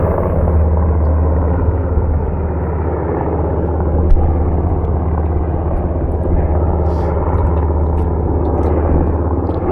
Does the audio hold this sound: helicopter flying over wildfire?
yes